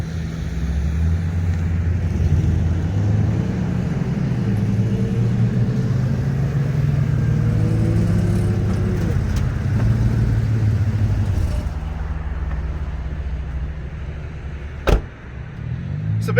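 A Chevy Silverado pickup truck engine rumbles steadily at close range while driving, slowing toward the end, followed by a couple of sharp clunks.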